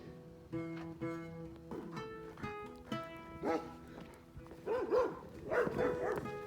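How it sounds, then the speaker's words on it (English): Several guard dogs bark and yip in short, irregular bursts, moderately distant, with some whining between barks, in a Belgian commune. "There it is, with the sound of guard dogs."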